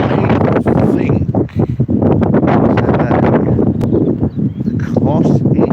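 Wind buffeting a microphone on a windy outdoor morning walk, heavy rumbling gusts that are loud and continuous and bury a voice talking underneath.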